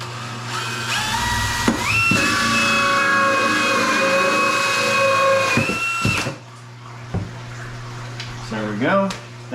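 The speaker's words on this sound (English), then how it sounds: "we're going to drill a hole in about the same spot, but on the opposite side." A power drill bores a hole in a DIY filter housing with a loud, steady whining whir for about four seconds, then spins down and stops. Handling noises and speech follow afterward.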